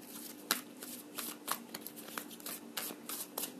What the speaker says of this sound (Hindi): let me take more card